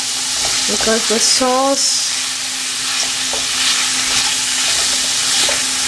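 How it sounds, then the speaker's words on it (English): Mushroom Manchurian being stirred in sauce in a pan over a flame, a continuous close sizzle with wet scraping and stirring sounds, with a few brief spoken words near the start. "Mix it like this for at least 1 minute."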